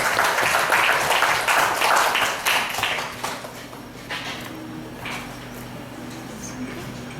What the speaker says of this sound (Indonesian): Beri tepuk tangan untuk tim Universitas Brawijaya Malang